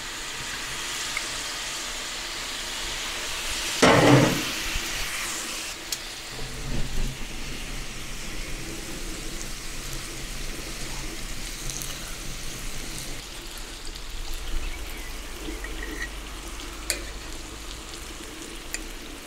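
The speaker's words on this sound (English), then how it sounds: "now I will flambe the pineapple slices." Pineapple slices flambéed on a Pit Boss Ultimate two-burner gas griddle give a sudden whoosh of flame, then a steady sizzle and frying crackle. The sound carries on alone at moderate loudness.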